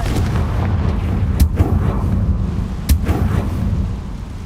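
Confringo fire spell in Hogwarts Legacy, a dense rumbling blast with two sharp cracking impacts about a second and a half apart, loud and close, with no talk.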